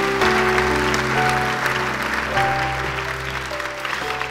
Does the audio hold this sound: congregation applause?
yes